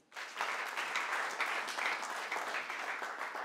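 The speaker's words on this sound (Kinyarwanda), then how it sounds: "Reka tumukomere amashyi" Congregation applauding at a church service, a dense, steady roar of many hands clapping that starts abruptly and holds at an even level throughout.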